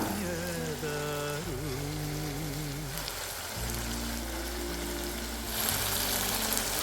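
Chicken frying in oil gives a steady, rain-like sizzle that continues throughout and swells louder near the end, with tonal background music running beneath it.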